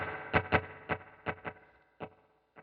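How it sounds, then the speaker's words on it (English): Electric guitar through a 1965 Fender Deluxe Reverb Prince-style amp model on a Line 6 Helix, with dual parallel dotted-eighth and quarter-note delays: a few picked notes followed by rhythmic, decaying repeats that trail off, played alone. "The dual delay is in a dotted eighth and a quarter note in parallel."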